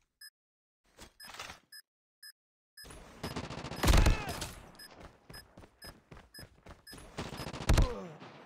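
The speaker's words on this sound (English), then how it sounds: "Shotgun lang naman ito." Gunfire from Call of Duty Mobile, with shotgun blasts and rapid shots mixed with in-game interface beeps, starting sparse and then building into dense bursts of firing.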